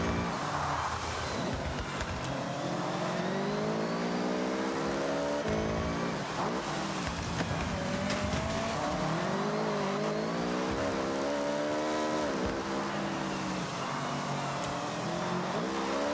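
Cars drifting in the racing video game Forza Horizon 6, engines revving and rising and falling in pitch as tires squeal through long slides, loud and continuous with no talking.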